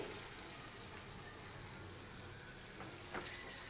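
Handvo batter, a mixed-vegetable batter, sizzles steadily in about two spoonfuls of oil in a kadai, making a continuous broadband frying hiss with faint crackles and no voices.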